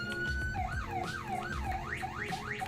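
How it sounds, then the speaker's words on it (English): Police car siren in a Roblox game, a steady tone shifting into a rising and falling wail that cycles about four times, clear and unbroken, with no talking over it. "You have some sirens."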